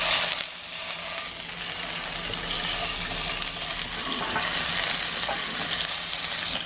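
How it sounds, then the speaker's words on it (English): Salmon frying in a pan, a steady dense sizzle and crackle that holds loud and even throughout, with no voices. "And you'll see as the salmon cooks, it's gonna turn white."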